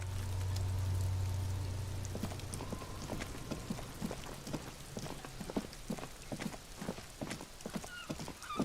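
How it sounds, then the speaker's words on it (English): Rain falls steadily in Disco Elysium, a dense patter of drops with sharp irregular ticks, preceded by a low hum that fades after the opening seconds; no one speaks. "It's raining again."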